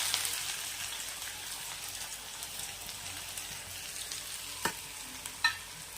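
Chopped onion sautéing in oil with mustard seeds and cumin gives a soft, steady frying hiss at a modest level, broken by two brief utensil knocks near the end, with no one speaking.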